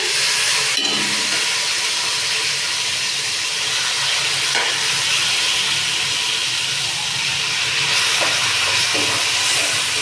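Ash gourd (petha) pieces fry in oil in a kadai, a loud, steady sizzle and hiss that fills the whole stretch with a few brief stirring knocks.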